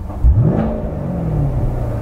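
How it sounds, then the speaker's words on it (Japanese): A 2019 Chevrolet Corvette C7 Grand Sport engine is blipped while parked, one sharp rising rev flaring up then settling back to a steady idle rumble, loud and close. "空ぶかしですね"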